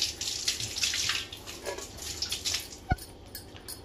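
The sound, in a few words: washing chopped onions and green chillies in water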